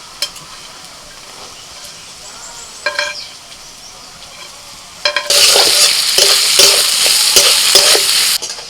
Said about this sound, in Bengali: পেঁয়াজটাকে হালকা ভেজে নিয়ে এবার ক্যাপসিকাম কুচি আর কাঁচা লঙ্কা কুচি দিয়ে দিচ্ছি